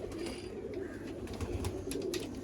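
Teddy pigeons coo in a low, steady, throbbing murmur close by, with faint rustling and clatter around them and no talk.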